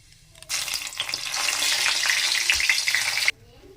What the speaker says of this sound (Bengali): এবার দিয়ে দেবো গোটা জিরে, ফোড়নে দিয়ে দেবো গোটা জিরে, দুটো তেজপাতা আর একটা শুকনো লঙ্কা।